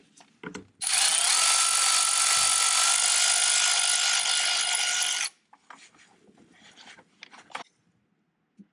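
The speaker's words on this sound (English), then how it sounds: "To remove the spark plug, you will need a 5/8 spark plug socket and a 6-inch extension." A ratchet with a 5/8 spark plug socket on a 6-inch extension works a spark plug out of a BMW N62 V8 engine. A continuous loud mechanical whir runs for about four seconds, bracketed by brief clicks and handling noises.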